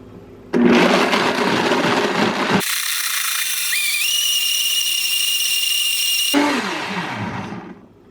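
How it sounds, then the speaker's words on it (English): A countertop blender whirs loudly at high speed, pulverizing almonds for homemade almond yogurt, its motor pitch rising into a steady whine before spinning down near the end. "I'm going to put the lid on and I'm going to blend this to smithereens"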